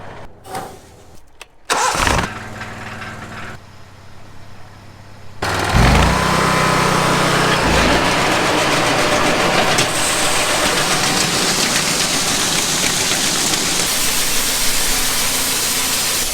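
Combine harvester working through a faba bean crop, its engine starting and rising into a loud, steady mechanical roar with continuous rattling and whirring that holds close and unbroken.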